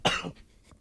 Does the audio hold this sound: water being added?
no